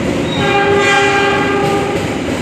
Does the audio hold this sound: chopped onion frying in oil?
no